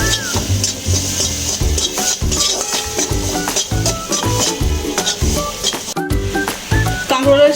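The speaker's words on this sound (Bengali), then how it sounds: "মশলাটা এবার কষিয়ে নেব" Spice paste sautés in a pan with chili powder, salt and a little water, a loud continuous sizzle under busy metal spoon stirring and scraping, with some clinks of utensils.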